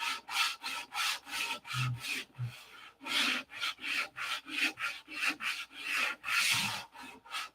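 Rhythmic back-and-forth sanding strokes rubbing abrasive across the fillets of a model, steady repeated passes close by with a couple of brief low thumps in between.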